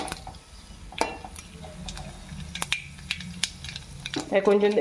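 Fenugreek seeds, chana dal, cumin and mustard seeds fry lightly in a pan for ridge gourd curry, giving a faint crackle with scattered scraping stirs and clinks of a utensil.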